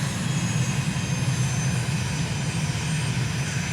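Steady, loud aircraft engine roar at full takeoff power in Microsoft Flight Simulator, departing runway 03 centre at Ankara; a continuous low rumble with a broad hiss runs unbroken throughout.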